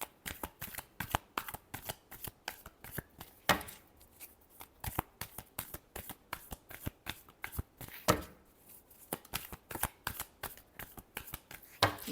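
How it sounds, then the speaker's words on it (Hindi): Tarot cards being shuffled, a long run of quick, crisp riffling flutters and soft slaps in bursts, close and clear with no talking. "Last shuffle."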